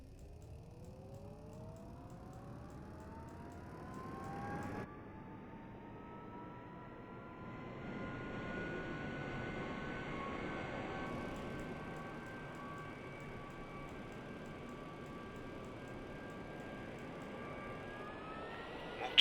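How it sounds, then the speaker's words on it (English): MB-339 jet trainer engine starting from cold, a steady turbine whine rising gradually in pitch over a low rumble, continuous and moderately close, with a brief click and a louder surge partway through and no talking. "Now start the engine by pressing the start engine button for at least 2 seconds"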